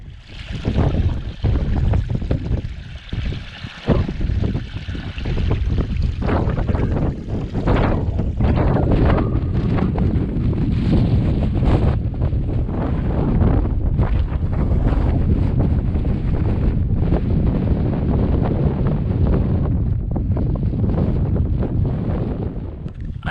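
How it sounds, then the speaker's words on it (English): Strong gusting wind roars across a bare fell top on Fountains Fell in the Yorkshire Dales, buffeting the microphone with loud, continuous low rumble and no wind muff. "I hope you can hear me over this wind."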